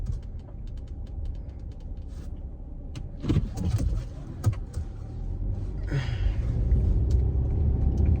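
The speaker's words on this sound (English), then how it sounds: "And we are now driving." Close, steady low road rumble from inside a moving car, with small clicks and rattles in the cabin and a gradual build in engine and road noise toward the end.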